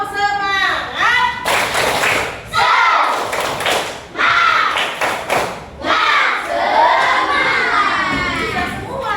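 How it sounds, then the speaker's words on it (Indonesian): Children at an Islamic lesson clap in bursts and shout together, loud and close, with rhythmic group claps, cheering and a voice leading between bursts. "Tepuk semangat."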